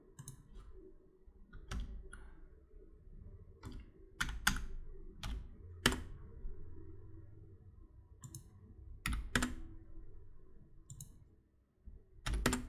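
Someone types on a computer keyboard in scattered bursts of sharp key clicks with a few louder strikes, up close over a low room hum, and no one speaks.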